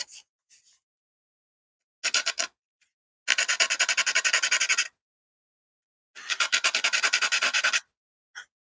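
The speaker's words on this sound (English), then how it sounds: "Problem is when I'm sanding these," Rapid back-and-forth sanding strokes on a wooden model door, which resonates like a sounding board, in three bursts, rasping, with short pauses between and a few quick scrapes at the start and end.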